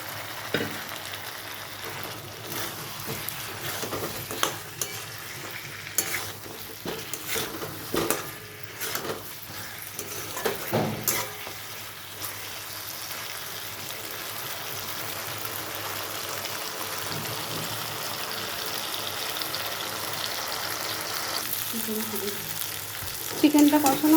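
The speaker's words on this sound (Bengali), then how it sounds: "চিকেনটা কষানো হয়ে গেছে" Chicken curry with fried potatoes is sautéed and stirred in a pan, a close sizzle punctuated by irregular scrapes and clatters of the spoon, quieter stretches between bursts of stirring, and a louder clank at the end.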